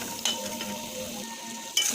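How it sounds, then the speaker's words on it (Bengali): Potatoes fry in mustard oil with salt and turmeric, giving a steady soft sizzle with two sharp scrape-like clicks of a spoon stirring the pan, and no talk. "ভালো করে ভাজা করে নিই।"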